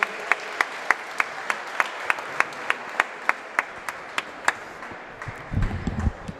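A gym crowd applauds seniors at a high school basketball senior night, with sharp claps keeping an even rhythm over a steady background of clapping and crowd noise before it breaks up into scattered sound.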